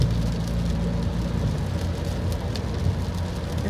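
Steady rain hissing on the road while driving on an elevated expressway (NLEX) in wet weather, a broad continuous wash over a low road and engine rumble, with no voices.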